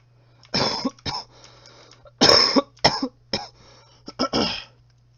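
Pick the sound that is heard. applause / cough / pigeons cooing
cough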